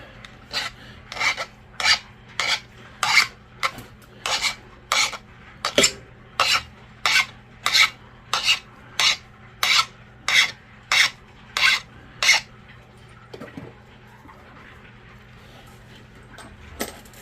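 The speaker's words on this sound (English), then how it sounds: "Shape it up a bit with the coarse abrader." A coarse abrader shapes a flintknapped stone point in about sixteen evenly spaced, close, rasping strokes, followed by a few seconds of quiet.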